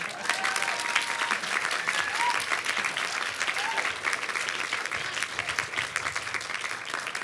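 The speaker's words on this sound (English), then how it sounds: "you can clap for them now" Sustained applause from an audience at a city State of the City event honoring award recipients, an even, dense wash of many hands clapping, fairly distant and steady for several seconds.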